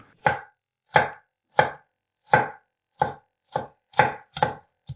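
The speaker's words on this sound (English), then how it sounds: "let's chop it up really small, just like we did with the ginger" A knife chopping a garlic clove finely on a cutting board, nine crisp, evenly spaced cuts about half a second apart, close and clear with silence between strokes.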